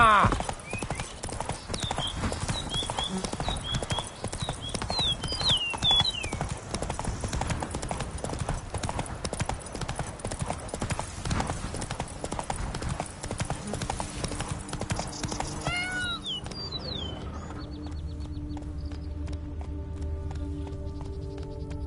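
Horse hooves clip-clop at a steady gallop in a video game, with a whinny and someone talking over the rhythmic hoofbeats before the pace fades.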